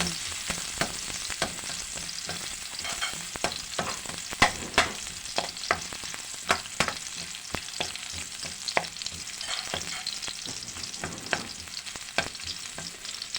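Chopped garlic sautéing in oil in a pan for Filipino ginisang kamatis, a steady close sizzle with frequent light scraping stirs and small clicks throughout, no voices.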